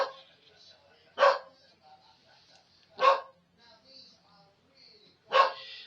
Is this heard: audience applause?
no